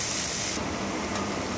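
Diced potatoes and bottle gourd peels fry in a pan over medium-low heat, giving a steady, close hiss with a brief stirring rub partway through.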